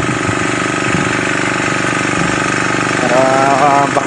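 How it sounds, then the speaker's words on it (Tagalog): Steady loud engine of a machine running on a lanzones farm in the Philippines, a continuous rattling drone with a faint higher whine entering near the end, close by with no break. "Ito makina, i-check natin."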